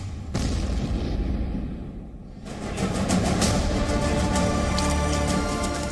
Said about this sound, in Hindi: विद्रोहियों के नियंत्रण वाले दोनेत्स्क शहर के उत्तरी हिस्से में कई विस्फोटों की आवाज सुनी गई।